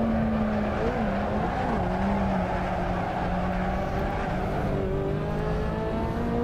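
A race car in a racing video game slides with a sustained, steady tire squeal over a loud engine drone, the squeal's pitch wavering as the slide continues.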